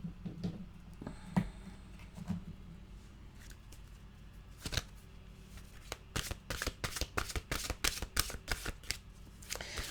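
Tarot-style mantra cards being shuffled by hand: soft rustles at first, then a fast run of crisp, repeated riffling snaps close by, growing denser toward the end with no talk over them.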